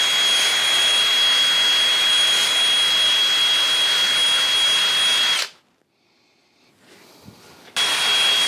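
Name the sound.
drill with wire wheel removing surface rust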